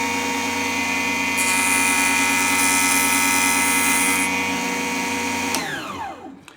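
A toy table saw cuts a notch in a fret-slotting template, a steady high-pitched whine that rises further under load mid-cut, then winds down as the blade spins to a stop.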